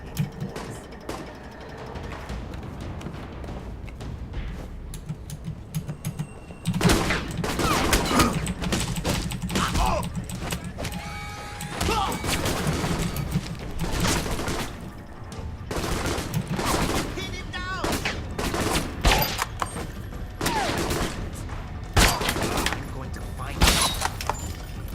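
Sustained gunfire in a third-person shooter, Alpha Protocol, as criminals are shot: volleys of rapid shots with sharp cracks and some shattering, loud and nearly continuous after a quieter opening, with someone talking at times.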